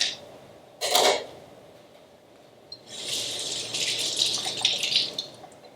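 Basil washed under a kitchen tap: a short splash, then water running steadily for a few seconds, close and moderately loud, with no voices.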